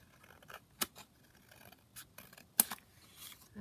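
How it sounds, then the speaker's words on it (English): Scissors snipping through a paper tag, several short separate cuts with quiet gaps between them, close and fairly faint, with no voices. "I'm just going to go down at the bottom and just cut it down slightly."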